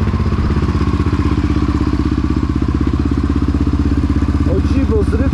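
A Yamaha DT 50 two-stroke motorcycle engine runs steadily and loudly up close while riding into town on a warm spring day, with a continuous buzzing drone and a few brief clatters near the end.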